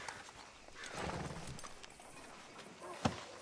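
Horse hooves clip-clop in the Red Dead Redemption 2 video game at a steady walking rhythm over a busy town backdrop, ending with one sharp, louder impact near the close.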